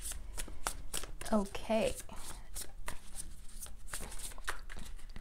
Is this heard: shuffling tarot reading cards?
yes